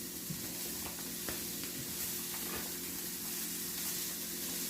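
Carrots sauteing in oil in a skillet, a soft steady sizzle and hiss with occasional stirring scrapes, close and quiet, no talking.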